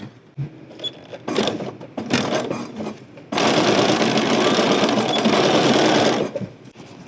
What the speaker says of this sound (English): I'm going to sew right up to that and back stitch